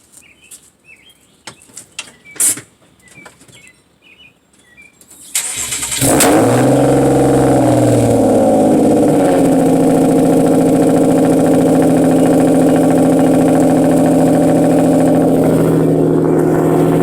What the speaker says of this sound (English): I'm gonna turn this car on. This car is extremely loud.